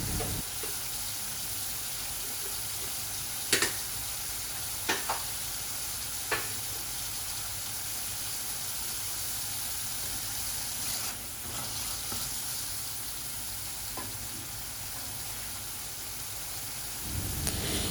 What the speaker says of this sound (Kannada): ಇದು ಇವಾಗ ಕುಕ್ಕಾಗಿ ಕುದಿಯೋ ತನಕ ಹೀಗಿಡೋಣ